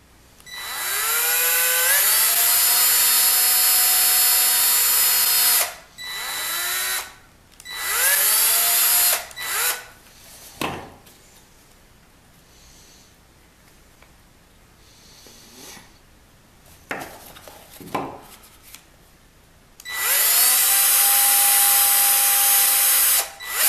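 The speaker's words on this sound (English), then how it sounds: "When I drill the body and your conductor" A power drill bores into the wooden body of an organ conductor in loud bursts with rising whine, separated by pauses with handling clatter and faint knocks, then one more long drilling run at the end.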